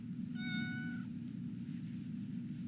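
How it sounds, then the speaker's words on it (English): A cat lets out a single clear meow, short and close, rising then falling over about a second, against a quiet indoor room tone with no one talking. "Handsome cat you got there."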